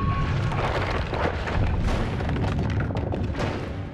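A Thunderbolt spell explosion in the Noita video game, heavy booming blasts and crackling debris rumbling loudly and continuously for several seconds, no talk.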